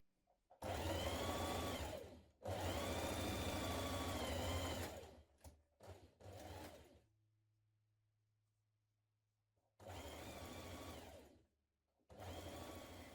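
A sewing machine stitches the side seams of a dress bodice, joining front to back pieces with a 1.5 cm seam allowance, running in several loud sustained bursts separated by short pauses and a near-silent stretch.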